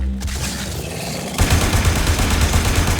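Rapid weapon fire at an alien hive on Deimos in the sci-fi shooter Warframe, a dense loud burst of gunfire that starts up sharply partway through over a low droning background, with no talking.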